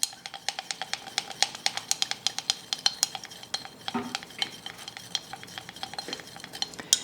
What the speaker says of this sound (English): I'm going to just try to mix all these oils with my carrier, get it as well blended as I can at the bottom of my beaker